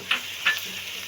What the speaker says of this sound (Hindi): 1 मिनट के लिए इस तरह इसे भूनेंगे। ताकि मिर्चों की करवाहट खत्म हो ऑयल में फ्राई होकर।